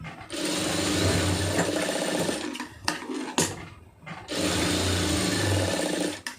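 A sewing machine stitching a blouse, running in a fast steady whir close by, pausing briefly in the middle with a couple of clicks before starting up again.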